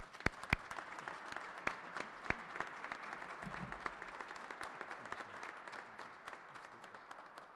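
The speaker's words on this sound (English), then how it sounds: "Let's give him a big round of applause for getting it done." Applause at a Kentucky bill signing, a moderate, steady patter of many hands clapping in a room, somewhat distant and even throughout, with a few sharper individual claps standing out.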